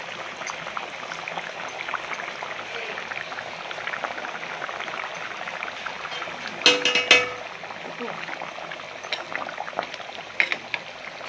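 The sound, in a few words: Sankara fish curry with mango boiling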